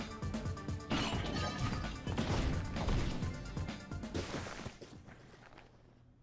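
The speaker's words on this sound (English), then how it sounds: "My axe sword shatters beneath his second attack" A heavy crash and shattering burst as an axe sword breaks under attack in the game Fate/Stay Night, loud impacts clustered over a few seconds and then decaying into quiet.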